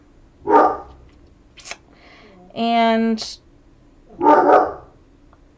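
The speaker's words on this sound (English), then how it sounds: "my dog's barking" A dog barks in two loud, close bursts, with a short harmonic yelp or whine between them, while a person speaks briefly in a quiet room.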